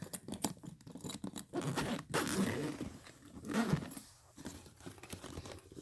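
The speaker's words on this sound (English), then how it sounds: "And here is the front, and it has double zipper" A Triforce luggage bag's front double zipper pulled open in several quick strokes, close and crisp, with rustling fabric between pulls.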